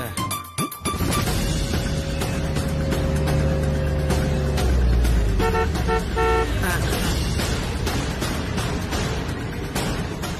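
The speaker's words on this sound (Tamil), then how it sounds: "என்ன இந்த வீட்டுல கார் சத்தம் கேக்குது?" Car arriving at a house in a Tamil TV drama, engine hum with several horn toots and tonal blares over a busy mixed background, with voices partly underneath.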